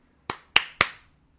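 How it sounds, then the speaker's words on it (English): Three sharp hand claps in quick succession, close and clear, each ringing out briefly in a quiet room with no other sound. "can you clap 3 times?"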